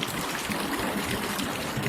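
Water drains through an opened paddle of a lock on the Cotswold Canals, a steady broad rush and trickle that stays even and continuous throughout.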